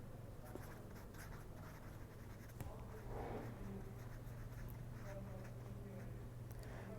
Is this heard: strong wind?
no